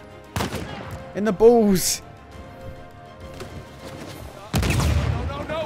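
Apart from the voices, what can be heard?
gunfire in video game Uncharted 4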